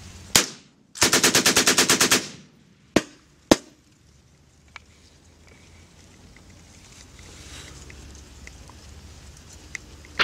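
A machine gun fires during Marine Corps Force Reconnaissance training: a single sharp shot, then a rapid burst of about a dozen rounds, followed by a few isolated loud shots and quieter distant pops.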